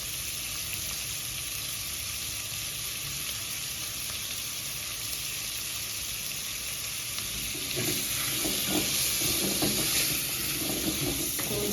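Ingredients for a ginger butternut soup, seasoned with a stock cube, are stirred in a pot over steady frying sizzle, with a louder burst of scraping and spoon clatter near the end.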